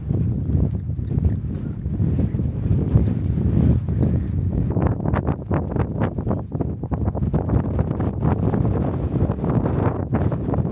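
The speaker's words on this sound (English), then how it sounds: "A really big windstorm is moving in and a huge cold front is coming through in Arizona." A strong windstorm ahead of a big cold front in Arizona buffets the microphone, a loud, continuous low roar with gusty thumps throughout and no voices.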